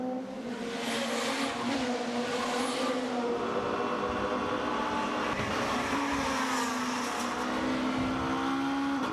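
BMW touring car engines race down the straight at the Macau street circuit in a WTCC round, a sustained high whining roar that rises and shifts in pitch as cars pass, loud and continuous with no talk.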